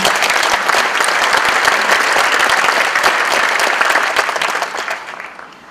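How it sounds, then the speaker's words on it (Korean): Loud, dense audience applause at the inauguration ceremony of the 35th chairman of the Korea Racing Authority, sustained clapping filling the hall before tapering off at the end. "큰 박수 부탁드립니다"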